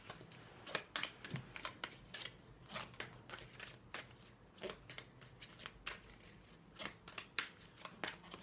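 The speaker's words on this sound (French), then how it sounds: "On va maintenant prendre l'oracle de Virginie" Oracle cards being shuffled during a French tarot-style guidance reading, with a steady run of crisp riffling bursts and repeated card slaps close to the mic, with no talking.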